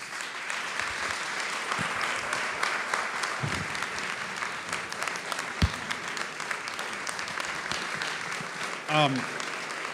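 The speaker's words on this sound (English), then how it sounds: "Let's have a round of applause for Ray Cortines." An audience at a public conversation event with the Los Angeles schools superintendent breaks into sustained, dense applause that fills the room at an even level for the whole stretch, with a brief voice near the end.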